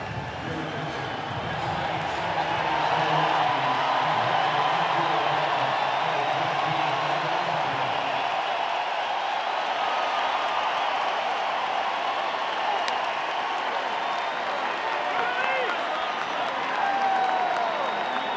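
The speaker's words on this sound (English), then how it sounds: "This crowd erupt when he runs off the field." A baseball crowd at a Rockies game roars into loud, sustained cheering and applause, a broad wash of noise that swells and holds for a long stretch while a commentator talks over it.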